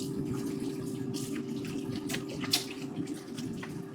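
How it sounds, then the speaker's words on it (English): Water from a kitchen tap runs steadily while hands are washed beneath it, a continuous close splashing hiss with small irregular splatters, alone and fairly loud. "Keep washing your hand."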